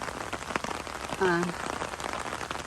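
Steady rain patters on a surface outdoors near a hanging cable bridge, a dense even hiss with scattered drops, briefly joined by a short tonal sound in the middle.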